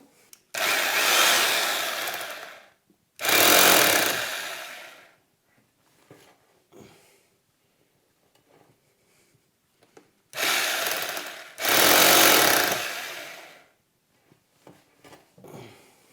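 A power drill whirs loudly in four bursts of about two seconds each while installing a toilet roll holder, two close together, a long pause, then two more, with faint clicks between.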